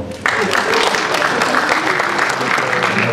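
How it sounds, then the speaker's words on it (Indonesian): Studio audience applause at a football league launch event, dense clapping that starts abruptly and continues steadily, fairly loud and close. "Tepuk tangan dong."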